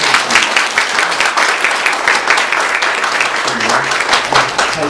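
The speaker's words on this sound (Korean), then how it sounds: "다시 한번 마지막으로 박수로." A Korean church congregation applauds during Sunday worship after an infant baptism, steady dense clapping filling the room for several seconds with faint voices mixed in.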